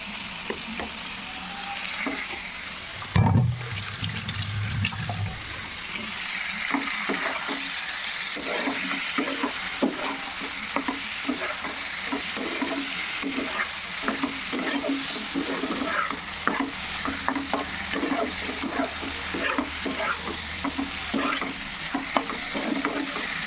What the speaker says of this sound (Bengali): মাছগুলো দিয়ে দিই, মশলা অনেকটাই কষে এসছে।